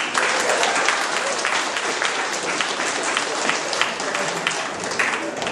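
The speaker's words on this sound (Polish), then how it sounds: "I wszystkim się należą gromkie brawa." Sustained, dense applause from a crowd at a village Women's Day celebration in Dylągówka, steady and loud throughout without a break.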